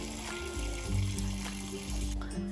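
Water is poured into a pot for boiling corn cobs, a faint trickling fill with resonant ringing tones that shift as the pot fills, fairly quiet and close.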